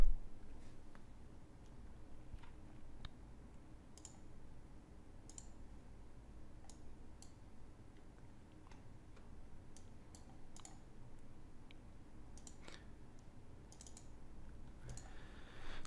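Scattered soft computer mouse clicks, faint and irregular, over a quiet steady room hiss while exporting a texture map in software.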